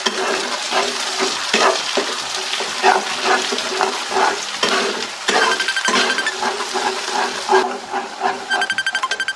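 Chopped garlic fries in hot oil in a pan for olive pickle, a steady close sizzle and hiss with occasional stirring scrapes and bubbling crackle throughout.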